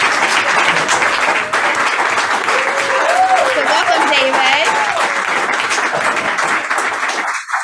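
Audience applause welcoming a new real estate agent at a Lake Lanier buyers-and-sellers presentation, a steady crowd clapping throughout, with a presenter speaking over it.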